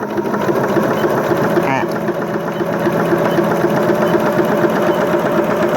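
Sewing machine running a zigzag appliqué stitch, a loud continuous motor hum with rhythmic needle chatter throughout, while a person talks over it.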